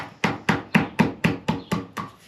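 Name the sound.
ball peen hammer tapping gasket paper to cut it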